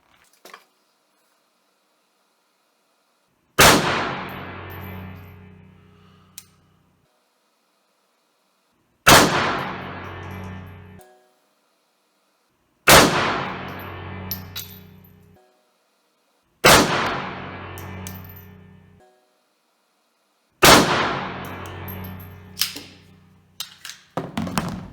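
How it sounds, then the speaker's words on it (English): Five sharp, loud pistol shots from a Bersa Thunder 380 Plus firing hand-loaded rounds with 100-grain hollow-base round-nose bullets ring out one at a time, spaced several seconds apart, each trailing a brief echo. "I'm gonna shoot one group with my reloads."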